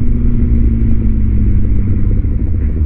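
A Honda CBR1000RR litre-class special edition sport motorcycle runs nearby, a steady, loud, deep engine rumble that holds even throughout with no voices.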